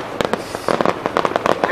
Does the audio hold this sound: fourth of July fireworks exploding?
yes